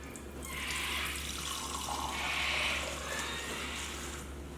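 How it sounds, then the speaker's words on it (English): Steady broadband hiss of homemade ginger beer fizzing, with soft bubbling swells rising and falling, close and fairly quiet, no talking. "you can hear the all the bubbles and that, the carbonation in it"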